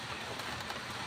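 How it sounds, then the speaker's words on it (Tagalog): Heavy rain falls near a terrace in a short, faint burst of steady, even hiss. "umuulan na mga lodi"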